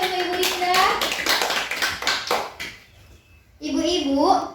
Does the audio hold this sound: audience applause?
yes